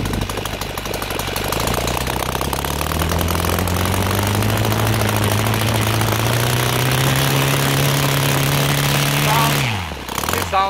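An OS FT 300 twin-cylinder model aircraft engine, converted to gasoline with CH ignition, runs with a loud, close, buzzing drone whose pitch rises slowly and then cuts off abruptly near the end.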